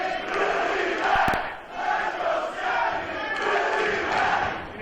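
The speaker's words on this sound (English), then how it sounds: "Crowd divided here in PCW Memorial Hall." A wrestling crowd in PCW Memorial Hall roars and chants in waves, the cheering swelling and dipping across the arena with a sharp impact sound partway through.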